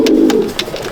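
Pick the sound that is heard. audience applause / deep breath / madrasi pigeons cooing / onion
madrasi pigeons cooing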